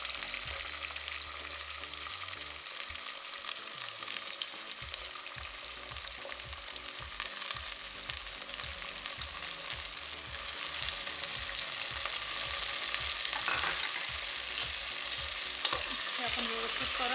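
Peas, carrots, cauliflower, capsicum and potato sautéing in a pan for vegetable pulao, a continuous soft sizzle with repeated rhythmic scrapes of a spoon against the pan, close and fairly quiet.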